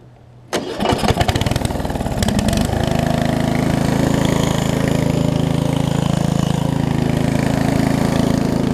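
Murray widebody riding mower engine, fitted with a new carburetor and fuel lines and run on choke, cranks briefly, catches and settles into a loud, steady idle close by.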